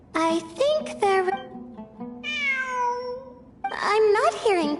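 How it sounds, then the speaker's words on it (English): Repeated meows from a cat in the video game Genshin Impact: several close, loud cries at the start, a long wavering meow in the middle, and a final burst of overlapping meows, with a quiet voice humming underneath. "It really is a cat."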